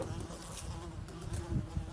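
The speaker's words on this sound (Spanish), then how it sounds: "Escucha la mosca." A fly buzzes close by in a cave in Puerto Rico, a continuous droning hum that wavers slightly in pitch, with no voices.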